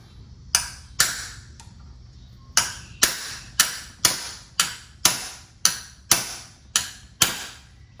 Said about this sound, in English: sometimes you just need to get a bigger hammer.